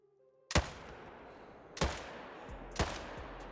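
Three loud rifle shots in a mule deer hunting video game, each a sharp crack followed by a rolling echo, spaced about a second apart over an otherwise quiet outdoor background.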